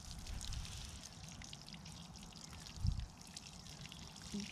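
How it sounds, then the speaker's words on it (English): Water pouring from a watering can over a potato planting, a soft continuous splashing trickle at moderate distance with a brief heavier gush midway, fairly faint outdoors. "You can only really fill that thing up 3/4 or it just dumps all over you."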